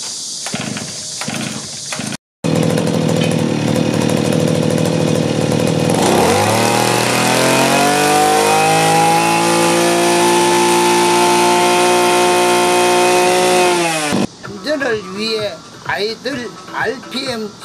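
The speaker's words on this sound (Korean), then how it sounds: "시동을 겁니다." A two-stroke brush cutter is pulled and fires up, its engine rising quickly to a loud, steady high-pitched buzz that holds for several seconds before cutting off, with a voice speaking briefly over the start.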